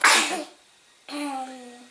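A single sharp sneeze bursts out, followed a moment later by a short voiced sound, close and fairly loud.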